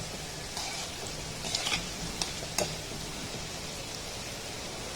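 Gulab jamun balls made from flour dough frying in oil over a low gas flame, giving a steady, soft broadband hiss with a few brief crackles and pops, no voices.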